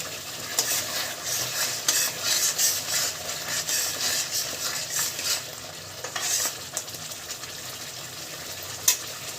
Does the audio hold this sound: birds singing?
no